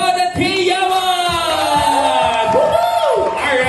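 Party guests at a child's first birthday in a party room cheering and whooping loudly, a crowd of raised voices with shouts rising over a steady roar.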